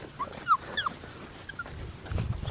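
An Australian Shepherd puppy whimpers in a few short, high, wavering whines spread across a couple of seconds. The whines are fairly soft and close, with a low rumbling noise building toward the end.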